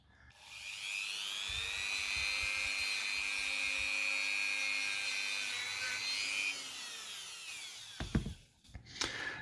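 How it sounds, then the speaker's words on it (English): A wire wheel buffs oxidation off a metal rudder control horn that also steers the tail wheel, giving a steady high whine and scratchy rasp for about seven seconds, then a few short bursts as the wheel touches the fitting again. "Just going to apply a bit of buffing to it with a wire wheel."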